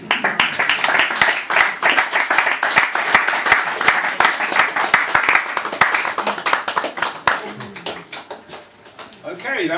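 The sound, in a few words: audience applause after poetry reading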